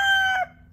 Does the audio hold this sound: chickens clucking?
yes